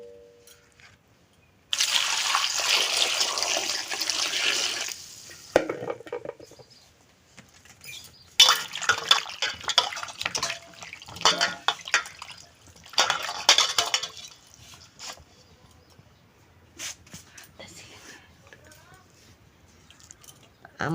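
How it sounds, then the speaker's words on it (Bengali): Mangoes being washed by hand under running water, with broadband splashing and rinsing bursts that come and go in several spells, close and fairly loud, amid handling noises. "আমগুলো ধুয়ে ছেলে নেব।"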